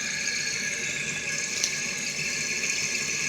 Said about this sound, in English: It fills up, you flush it, and that's where you always hear that noise.